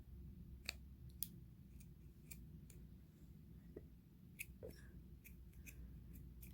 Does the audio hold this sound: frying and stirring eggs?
no